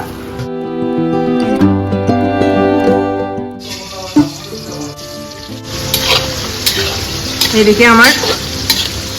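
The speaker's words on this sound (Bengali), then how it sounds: "ভাজা হচ্ছে মাংস" A utensil stirs chicken sizzling in a pan for chilli chicken, with clattering scrapes and a steady fry. Musical tones sound at first, and a voice speaks briefly.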